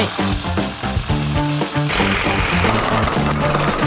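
A cordless hedge trimmer buzzes loudly and continuously with a rapid rattling pulse, shifting pitch partway through.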